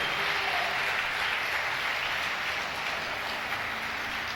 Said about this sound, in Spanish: Dale fuerte ese aplauso al Señor si lo crees